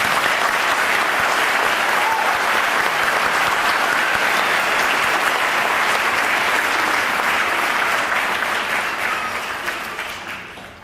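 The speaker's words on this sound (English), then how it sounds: "Please give a round of applause for the spouses." Sustained applause from a ceremony audience honoring spouses at a military retirement ceremony, dense steady clapping throughout that tapers off near the end.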